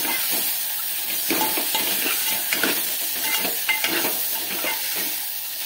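A thick ground spice paste sizzles and spatters in a hot pan over low heat, with scraping stirring strokes repeating throughout.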